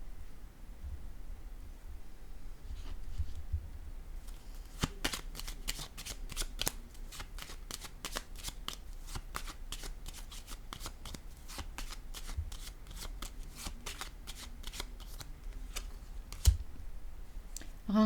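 Playing cards are shuffled and drawn in a long run of crisp riffling snaps and soft flicks, close and fairly quiet, with a few sharper clicks near the end.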